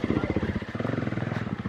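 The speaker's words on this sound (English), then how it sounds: "You gotta shut the bike off." A motorcycle engine idles close by with a rapid, even pulsing throb that holds steady for the whole moment.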